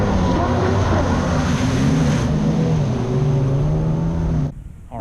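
A Superjet jet ski races nearby on the water. Its engine whines loudly and closely, with droning tones that rise and fall in pitch, then drops away sharply just before the end.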